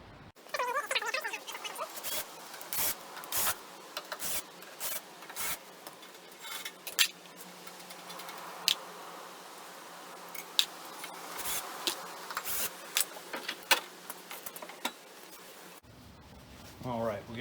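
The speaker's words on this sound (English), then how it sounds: "we got the 4 bolts loose here that are in the flange of the motor" Wrenches work loose the bolts on the motor flange of a Felder AD741 jointer planer, producing scattered close metallic clicks, scrapes and ratcheting taps in an irregular rhythm over a low hum.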